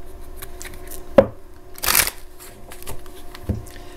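Luna Tarot cards being shuffled close to the microphone, a quiet riffling with a sharp snap of cards near the start, a longer brushing sweep in the middle, and another soft tap near the end.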